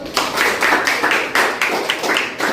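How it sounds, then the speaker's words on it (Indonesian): Students in a classroom clap together in a brief, fairly loud round of applause, with a steady rhythmic patter that pulses in roughly regular beats and has no talking over it. "Kita beri aplaus dulu"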